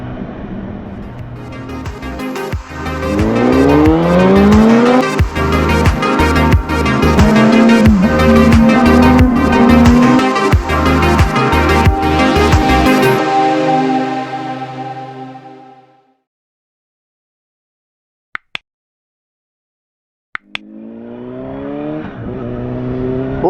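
A restored 2007 Honda CBR1000RR inline-four sport bike on a wet road, engine revving hard and accelerating loudly through several gear changes, then cutting to near silence with a few clicks before the engine sound returns.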